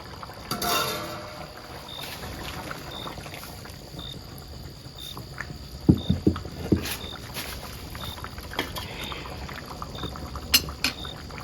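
Kerala fish curry simmering in a pot gives a soft, steady bubbling hiss throughout, with a few louder pops and clinks near the middle and end.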